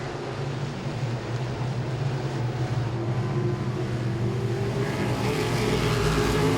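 Modified race cars in the closing laps at Langley Speedway, heard as a continuous, even engine roar with no break throughout.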